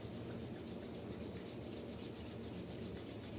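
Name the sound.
rubbing palms of hands together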